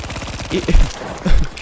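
A rapid automatic burst of gunfire in Battlefield 5 rattles out in quick, evenly spaced shots, followed by a couple of heavier thuds, loud and close.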